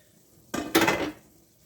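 Apples cooking in a pan for fried apples or pie filling give a brief close scrape and clatter of a spoon against the pan, two quick strokes with soft sizzling, and no speech.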